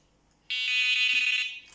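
A fishing bite alarm detector, a single sustained high-pitched electronic beep starting sharply and lasting about a second, loud and close in a quiet setting.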